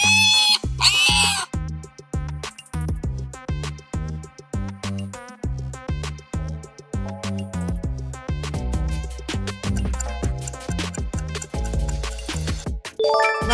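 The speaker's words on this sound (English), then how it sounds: "Right on, pig." Repeated pig oinks and grunts come in a rhythmic series of short, loud snorts, close up and alone, with a brief chime at the start and end of the quiz round.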